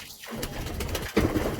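Pigeons coo in soft, repeated low murmurs close by, with a brief lull near the start and a louder burst of cooing toward the end, no talk over it.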